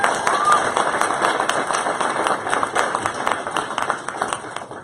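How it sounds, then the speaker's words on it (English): A crowd gives a steady round of applause at a talk, honouring two co-workers. Dense clapping runs continuously for several seconds at an even, fairly loud level. "Round of applause to both of them."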